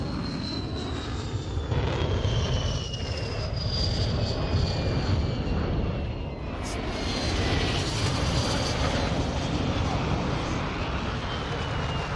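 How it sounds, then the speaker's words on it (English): A hostile VTOL aircraft approaches in a first-person shooter, its engine a steady loud roar with a whining tone sliding downward, sustained throughout without pause. "Hostile VTOL incoming"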